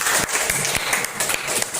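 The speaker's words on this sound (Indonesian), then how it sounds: "Kasih tepuk tangan buat teman-teman" Classmates in an Indonesian classroom give a round of applause, a steady wash of many hands clapping with a few sharper claps standing out, fairly close and filling the short moment.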